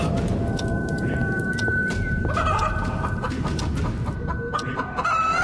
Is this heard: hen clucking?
yes